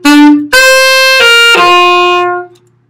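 Alto saxophone plays the second lick of a song, a short phrase of four sustained, reedy notes with a brief break between each, played close and loud and heard alone.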